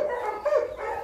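A molosser-type dog gives a couple of short, whiny barks and yips close by, with no talking.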